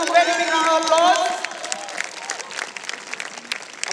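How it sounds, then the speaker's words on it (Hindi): An audience at the Isha Mahashivratri celebration breaks into applause. A voice is heard briefly at the start, then dense, sustained clapping from a large crowd fills the rest. "please give him a very big round of applause"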